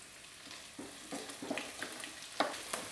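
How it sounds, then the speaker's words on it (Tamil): Small shallots sautéing in a pan with curry leaves and green chili for a Tamil fish curry. A soft, steady sizzle is broken by faint scraping stirs at an irregular pace. "கொஞ்ச நேரம் அப்படியே வதங்கட்டும்."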